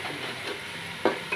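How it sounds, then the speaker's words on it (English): Ginger, garlic and onions sizzle steadily in a pan with a soft hiss, and a couple of brief scraping stirs break through near the end. "The ginger garlic is frying over here with the onions."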